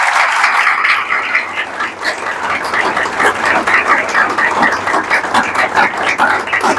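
Congregation applause during a Good Friday church sermon, a steady dense patter of many hands clapping that carries on without pause.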